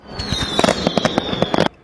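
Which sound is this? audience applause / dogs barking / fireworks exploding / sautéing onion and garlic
fireworks exploding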